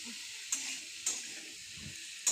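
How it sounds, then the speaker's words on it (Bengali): Small prawns with vegetables and turmeric sizzle steadily in hot oil, a constant bright hiss broken by a few sharp scrapes as the mix is stirred. "এবারে আমি বেশ ভালো করে ভেজে নেব,"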